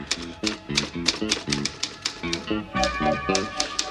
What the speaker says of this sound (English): This is two-finger typing.